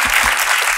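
A studio audience on a Turkish late-night talk show applauding a singer, a brief dense burst of loud clapping up close.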